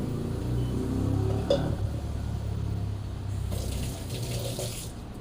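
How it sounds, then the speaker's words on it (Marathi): Water pouring into a mixer grinder jar in a home kitchen, a steady close splash and trickle lasting the whole time, with a brief clink near the middle and a slightly louder pour toward the end. "हे मिक्सरचं भांडं जे मगाशी आपण केलेलं होतं तर तेही असं घेऊन त्यामध्ये पाणी ॲड करणार"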